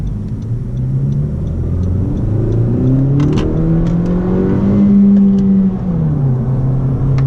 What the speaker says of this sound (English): As expected, you can hold out the revs pretty high on this Honda